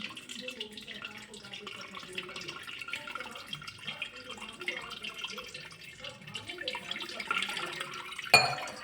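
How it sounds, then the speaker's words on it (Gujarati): Maggi noodles in a strainer rinsed under cold running water, a soft continuous trickle and patter with dripping, close but fairly quiet, ending in a sharp knock. "હવે આપણે ઠંડા પાણીથી એને 2 વાર આપણે એને ધોઈ લેવાની છે."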